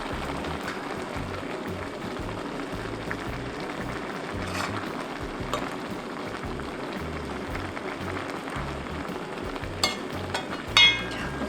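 Dried radish greens simmering with green onion and chili in a pot, a dense continuous bubbling sizzle close by, with a few louder clatters near the end.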